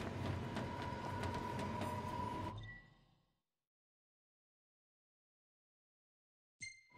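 A very large train in Final Fantasy XV rumbles past loudly with clattering wheels and a steady tonal hum, then cuts off abruptly and fades into silence before a brief faint sound near the end.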